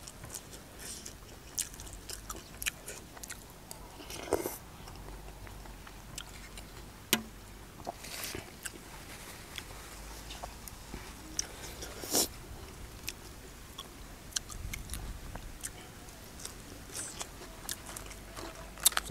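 Someone close by chews pounded spicy oysters with crunchy acacia shoots, making soft, irregular crunching bites and wet chewing at a quiet level with small pauses between mouthfuls.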